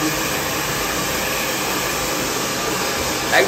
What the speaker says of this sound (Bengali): এই দেখুন এবার আমি ড্রায়ার দিয়ে হেয়ারটাকে শুকিয়ে নেব